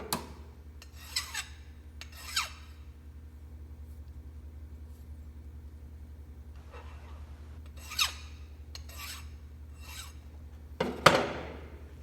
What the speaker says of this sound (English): I'm going to take it, I'm going to deburr it.